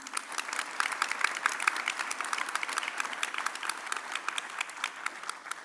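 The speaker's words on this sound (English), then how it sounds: "Join me in applauding them." Audience applause at the San Francisco State University 2022 opening convocation, a steady, even patter of many hands clapping at moderate distance throughout, with no talk over it.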